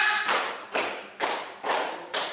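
A classroom of students claps together in a counting clap game, five crisp unison claps in steady rhythm with a short ringing decay after each, following a brief voice at the start.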